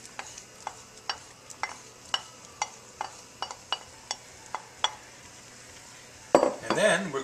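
Canned peaches and cream corn is stirred into a pot of boiling shrimp and chorizo soup, a steady series of spoon clinks against the pot, then a louder splash and spill as the corn goes in.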